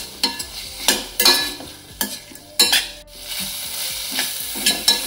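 Paneer pepper fry sizzles in a pan while being stirred, with repeated close scraping strokes over a steady frying hiss.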